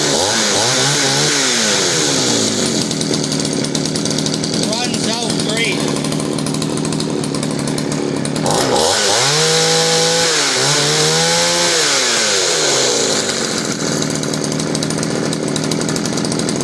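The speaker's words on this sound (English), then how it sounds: "Here we have a poulan counter vibe 3400 chainsaw complete" Poulan Counter Vibe 3400 chainsaw fitted with a newer chain and bar runs loudly at a rough idle, then revs up twice in sharp rising and falling surges before settling back, with a voice talking over it.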